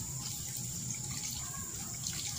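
Water pours and splashes steadily into a cooking pot of chicken tinola, a continuous close liquid rush with no talking.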